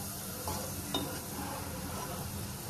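Onions fry in oil for prawn biryani, a faint, even sizzle that holds steady with a couple of soft stirring scrapes, and no voices.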